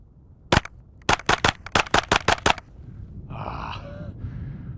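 A suppressed KRISS Vector Gen 2 fires in cold weather: a lone shot, then a quick string of about eight sharp, evenly spaced muffled cracks, loud and close, followed by a faint hiss and a soft grunting breath.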